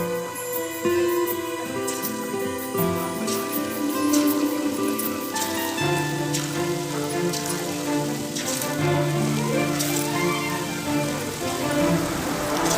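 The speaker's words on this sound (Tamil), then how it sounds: "நல்லா எண்ணெயை காய வச்சு சூடான எண்ணெயில் பொரித்து எடுத்துடலாம்" Snake gourd pieces coated in batter deep-fry in hot oil, giving a steady, dense crackle and sizzle that runs the whole time beneath louder background music.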